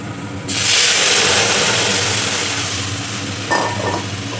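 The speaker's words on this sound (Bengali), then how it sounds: "তো এখন আমি এটাতে ডাল দিয়ে দেবো।" Dal poured into hot fried onion tempering bursts into a loud, close sizzle that starts abruptly and fades slowly, with a brief clink of a utensil near the end.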